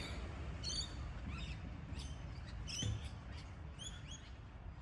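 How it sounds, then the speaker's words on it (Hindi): Small birds chirp in a Melbourne park, several short bright calls scattered across the stretch over a low rumble of distant traffic. "ये जो चिड़ियों की आवाज़ है"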